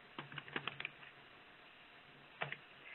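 A computer keyboard clatters under quick typing, with a short burst of rapid keystrokes, a pause, then a brief final flurry, close and fairly quiet.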